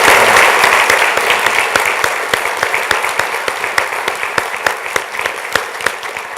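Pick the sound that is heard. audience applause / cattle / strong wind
audience applause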